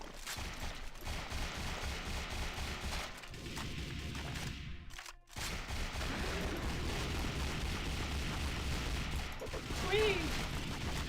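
Rapid bursts of gunfire in the SAS4 zombie shooter game, dense crackling volleys running nearly throughout with a brief silent gap near the middle, loud and close, with faint game sounds mixed in.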